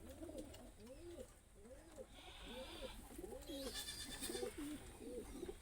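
Madrasi pigeons coo in a steady run of soft, repeated rolling calls, close by and fairly quiet, with some background noise.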